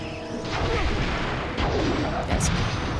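A loud earth ability blast from the video game The Legend of Spyro: A New Beginning booms and rumbles like an earthquake in repeated heavy bursts over about three seconds.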